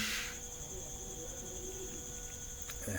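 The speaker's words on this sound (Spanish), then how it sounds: "Con el sonido de las campanitas, con los grillos por ahí, algunos pajaritos por ahí cantando." Crickets chirp steadily outdoors on a sunny day, a faint, continuous high trill with a quiet background and no talking.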